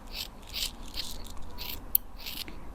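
Scissors snip through a thick section of hair during a home haircut, making a series of crisp, close cutting bursts spaced roughly every half second.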